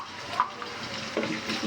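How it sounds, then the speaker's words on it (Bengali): Shrimp frying in hot oil with onion, a soft continuous sizzle with a few stirring scrapes and small pops, close by with no talking. "চিংড়ি মাছটা তেলে ভাজা নিব পেঁয়াজের সাথে"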